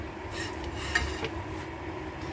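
A tawa griddle being cleaned, with soft, continuous scraping and rubbing on metal and a few faint clinks, quiet and close, with no one talking.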